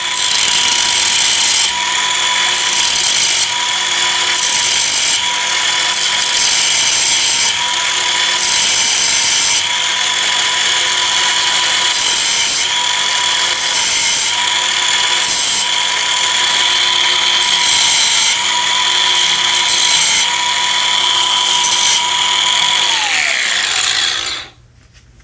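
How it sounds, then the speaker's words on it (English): An abrasive blade grinds against a copper crimp ring in repeated loud bursts over a steady high motor whine, the contact pulses coming every second or so before the tool spins down and stops at the end. "I was just kind of touching the copper ring against the abrasive blade"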